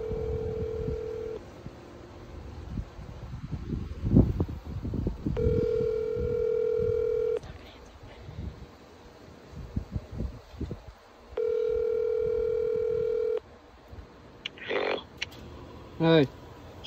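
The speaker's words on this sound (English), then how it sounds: "we're gonna give him a quick phone call" A telephone rings during a prank phone call, with repeated long ringback tones in two separate bursts, close and steady, among rustling and brief outdoor noise.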